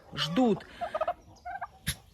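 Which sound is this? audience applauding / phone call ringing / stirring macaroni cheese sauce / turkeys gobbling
turkeys gobbling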